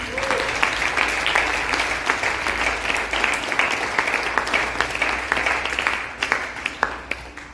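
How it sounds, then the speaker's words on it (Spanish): A church congregation applauds steadily and fairly loudly, a dense continuous clapping that holds throughout before easing slightly near the end. "¿Alguien puede aplaudir su presencia?"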